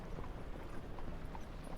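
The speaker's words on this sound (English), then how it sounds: "the sound of the lead horses, of the lead carriage, the sound of their hoof falls" Hoofbeats of the lead horses pulling a carriage, a steady busy clatter of hoof falls mixed into a dense, moderately loud background rumble with no clear talking.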